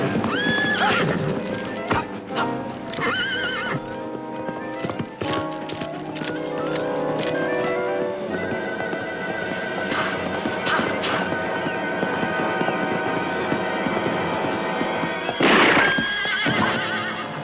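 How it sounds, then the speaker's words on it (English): A horse whinnies loudly up close, then hooves clip-clop steadily on hard ground, mixed with clattering and a short sharp crash in a 1968 period horror film scene. "Good horse you had there."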